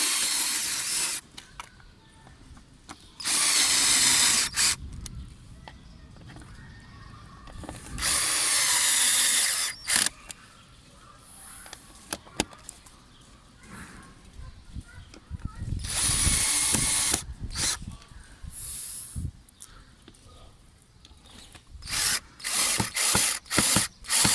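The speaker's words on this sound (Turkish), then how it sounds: "Sonra aynı şekilde söktüğümüz gibi bütün vidaları sıkıyoruz." A power driver tightens screws on the air filter housing of a Chevrolet Cruze, with several loud bursts of whirring and ratcheting between pauses, close by, with a voice speaking in the gaps.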